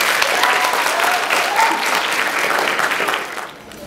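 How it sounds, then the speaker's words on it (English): A middle school audience at a 2014 district literacy competition gives 8th grade participants a round of applause: dense, continuous crowd clapping that tapers slightly before stopping. "Let's give our 8th grade participants a round of applause"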